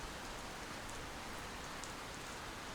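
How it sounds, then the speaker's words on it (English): Steady rain falls as an even, hissing wash of drops, constant and fairly quiet throughout with no voices. "Rain!"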